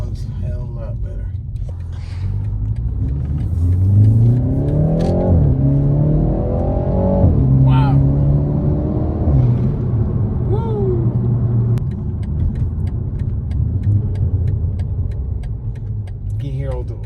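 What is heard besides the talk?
BMW 335i N54 engine revving with new air intake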